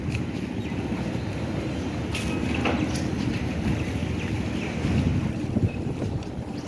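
A local ferry boat crosses the river at Barisal launch ghat, its low engine rumble and water wash steady under gusty wind buffeting the microphone, with a few faint distant knocks and no speech.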